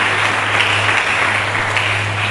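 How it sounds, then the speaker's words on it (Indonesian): A church congregation applauds, a dense, continuous wash of clapping blurred into steady noise with a low electrical hum underneath. "Mari kita berikan tepuk tangan bagi Yesus Kristus"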